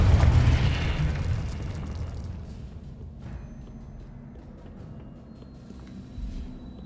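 Confringo fire spell explodes in the Hogwarts Legacy video game, opening with a loud, deep boom that fades into a long low rumble, with faint game sounds afterward.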